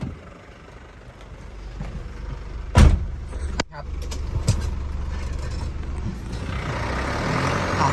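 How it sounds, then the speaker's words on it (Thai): A 1999 Isuzu Rodeo 2.8 turbo four-wheel-drive pickup with manual gearbox sits stuck in a water puddle in two-wheel drive, its engine droning steadily with a few heavy thumps while someone talks over it. "ติดแอ่งน้ำนะครับ ขับ 2 ไม่สามารถออกไปได้คุณผู้ชม"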